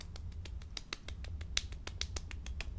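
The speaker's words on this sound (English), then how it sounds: "Everyone clap your hands for Jeff." Sparse hand clapping on a radio show, sharp claps in a steady rhythm over a low background hum, fairly close and moderately loud, with no talking.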